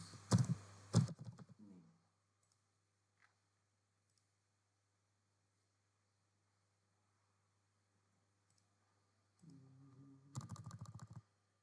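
Typing on a computer keyboard while filling in an account name during Salesforce admin setup, with a short burst of clicks at the start and another near the end, quiet in between.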